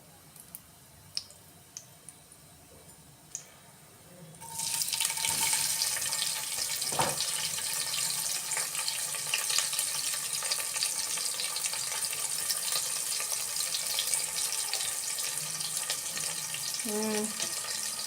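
Chopped onions for vegetable biryani drop into hot oil partway through, and a sudden loud, steady sizzle takes over after a few quiet clicks and taps, then continues close up to the end.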